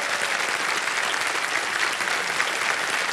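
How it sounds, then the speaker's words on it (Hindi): Dense, steady applause from a studio audience at an Indian television quiz show taping, sustained and loud throughout with no voices on top. "ताली बजाते हैं आपके लिए।"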